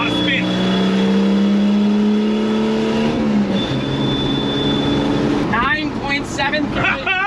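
Cheap truck fitted with an inexpensive turbo accelerating hard with wheelspin, engine roaring loud and close with rising pitch, a gear change midway, and excited voices over the end.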